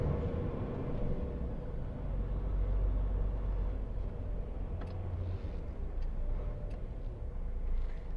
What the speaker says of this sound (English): Don't you just love traffic?